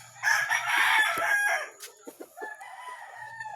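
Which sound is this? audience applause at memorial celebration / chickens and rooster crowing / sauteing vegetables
chickens and rooster crowing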